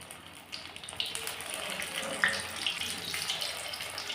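Paneer cheese balls drop into hot oil and fry with a steady, dense bubbling sizzle that rises slightly as more go in, close and continuous with no talking.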